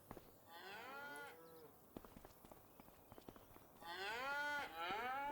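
Cattle in the Farming Simulator 25 video game give two loud, drawn-out moos near by, separated by a stretch of soft hoof clops and footsteps, with a low voice faintly underneath.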